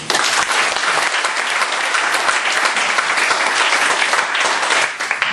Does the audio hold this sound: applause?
yes